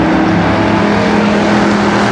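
Street stock race cars roar together around the oval at Columbus Motor Speedway in a 1990 Labor Day heat race, a loud steady engine drone with no pauses.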